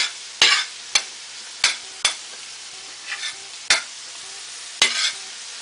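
Ground beef browning in a pan, a soft continuous sizzle broken by sharp, regular scrapes and clacks of a utensil pushing the meat around, close and clear.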